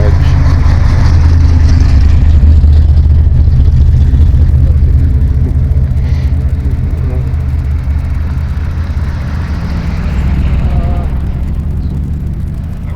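A Max Wedge car engine rumbles steadily at a car show, a loud, continuous low idle that holds for the whole stretch with faint background activity and possible voices nearby.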